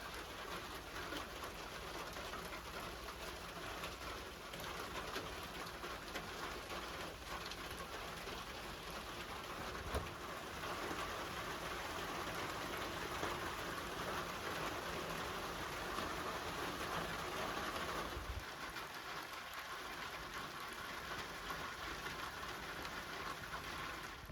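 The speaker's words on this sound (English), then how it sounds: "first rain of the season out here anyways" The season's first rain falls at an outdoor cabin build site as a steady, soft, even hiss, with a pigeon cooing faintly in the background and a couple of small knocks.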